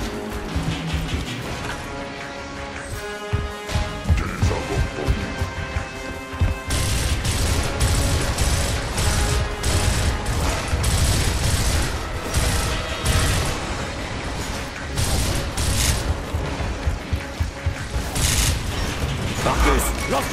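Gears of War combat plays out in dense, continuous gunfire bursts with heavy booming grenade explosions and metallic clatter, loud and close, while voices speak over the battle.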